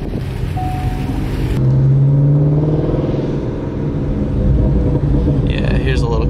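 A manual Ford Shelby GT350 idles steadily with a deep, close rumble while people talk over it.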